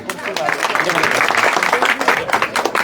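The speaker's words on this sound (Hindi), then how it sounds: "एक ताली अपने लिए बजा दीजिए।" Crowd applause at a Congress political gathering in Tibba Danasher, India: a dense, steady wash of many hands clapping that fills the whole stretch at fairly loud level, with voices mixed in.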